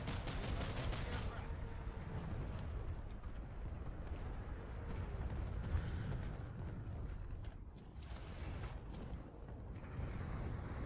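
Gunfire in the Planetside 2 game: a quiet, dense wash of rapid shots and rumbling battle noise runs continuously through the whole stretch, fairly distant and even.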